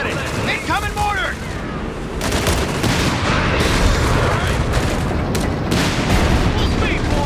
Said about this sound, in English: Incoming mortar!